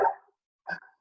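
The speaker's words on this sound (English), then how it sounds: "as you can hear my dogs barking." Two quick barks from dogs indoors, close and fairly loud, separated by a short silence.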